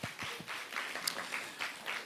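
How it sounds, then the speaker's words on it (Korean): A church congregation at an afternoon worship service claps in a soft, steady wash of applause heard from a slight distance, without voices over it. "모든 영광 하나님께 박수하시겠습니다."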